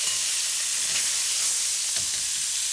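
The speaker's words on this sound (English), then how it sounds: "Then take the meat and return it to the wok." Stir-fried beef with orange hits a hot wok with a steady, loud sizzle and hiss that runs throughout, with faint stirring scrapes now and then.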